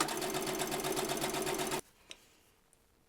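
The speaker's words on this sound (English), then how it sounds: "I'm just going to sew one side and then flip it" Sewing machine stitching one side of a fabric coat, running at a fast, steady, buzzing rhythm for almost two seconds before it stops abruptly, followed by a couple of faint clicks.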